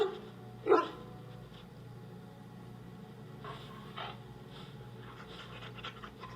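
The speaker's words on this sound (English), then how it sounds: "Rex, you need to stop barking when I'm talking to people" Dog in the video game Dragon Age: Origins, giving one sharp bark early followed by faint panting and a few soft yips over a quiet humming background.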